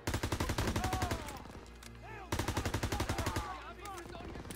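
MP40 submachine gun firing in Call of Duty WWII, loud rapid full-auto bursts of evenly spaced shots, two long strings with a short gap, while a voice speaks over part of it.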